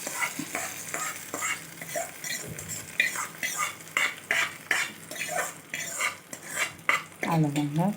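Hot tempering is poured into a chutney and stirred, bringing a brief sizzle and repeated scraping and clinking of a spoon against a metal pan, close and clear, with a short vocal sound near the end.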